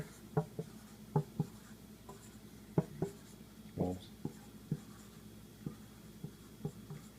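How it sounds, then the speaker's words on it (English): Pen or marker scratches out a handwritten label reading a room name, in a run of short, irregular stroke sounds, close and fairly quiet with no talking. "I'm going to write dining room."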